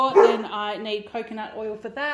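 A pet dog barks at children passing by outside on scooters or bikes, a few yips and barks mixed under close, continuous talk from a woman indoors.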